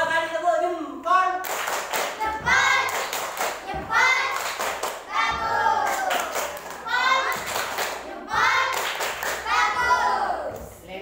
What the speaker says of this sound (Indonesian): Dua kali tepuk jempol.